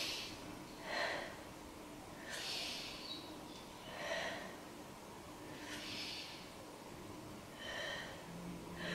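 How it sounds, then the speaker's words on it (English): Slow, deep yoga breaths taken while holding a pose, with several soft airy inhales and exhales repeating at a steady, unhurried rhythm close to the microphone. "Take three breaths here."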